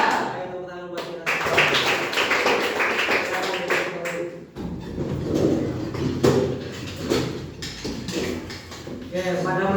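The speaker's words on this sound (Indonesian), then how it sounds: "Ayo tepuk tangan buat kita." A classroom of students clapping hands together at the start of a math lesson, bursts of quick sharp claps in uneven rhythm, with speech and other room noise mixed in among them.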